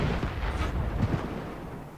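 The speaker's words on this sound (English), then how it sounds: "Shooting this tank here." Tank cannon fire and battle noise in World of Tanks, a dense, rumbling barrage of booming shots filling the whole stretch at steady loudness with no talking.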